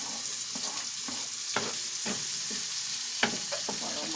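Onions fry in a pan while being stirred, a soft constant sizzle broken by repeated scraping taps of a utensil against the pan, recorded close.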